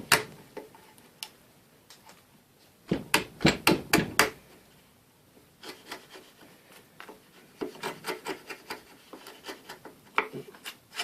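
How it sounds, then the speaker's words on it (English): A chisel set in a spur mark on wood for a bridle joint is tapped, giving clusters of sharp close knocks, separated by pauses and quieter scraping. "the chisel just slots into that, into the spur mark that we had created earlier on."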